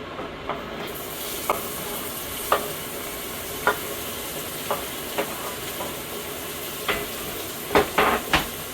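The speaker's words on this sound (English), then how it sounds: "I'm gonna keep that and just throw my bacon in there" Bacon sizzles in its own grease in a pan, a steady close hiss broken by scattered sharp pops and crackles that grow busier toward the end, with no talking.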